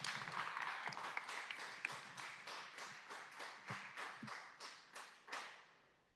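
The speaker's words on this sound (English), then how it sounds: "round of applause for Christian" An audience at a tech meetup applauds a speaker with rhythmic, fairly distant clapping that gradually thins out and fades over several seconds.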